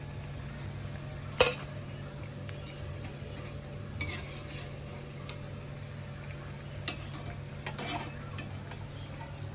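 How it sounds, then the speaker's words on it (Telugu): Moong dal chandrakanthalu sweets fry in oil, a faint, even sizzle with a few sharp clinks and stirring sounds scattered through, and no talk. "ఈ విధంగా వేయించుకోవాలి."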